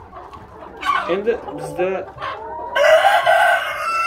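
Black chickens kept in a house basement cluck close by, and a rooster then crows loudly near the end. Someone speaks briefly under the birds.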